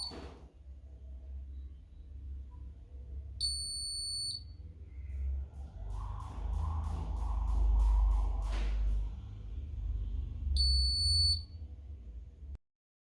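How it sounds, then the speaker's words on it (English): A smoke detector buzzer in an electric vehicle safety kit sounds in two short, bright, steady beeps a few seconds apart, close and loud over a low rumbling background, with a crackly noisy stretch between them. "whenever sensor detects smoke, buzzer is getting on"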